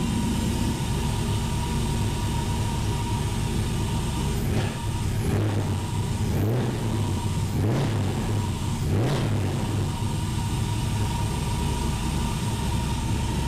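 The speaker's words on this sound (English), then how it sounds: "I didn't have to adjust the throttle body. I think just started and idled on its own." A car engine, freshly fitted with throttle body work, runs steadily at idle, a loud continuous drone with several brief revs or bumps in the middle; no speech.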